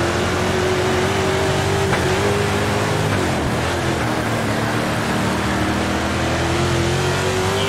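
Dirt track race cars roaring around the oval in the World of Outlaws Dirt Racing video game, a loud sustained engine drone that rises and falls as the cars rev through the laps.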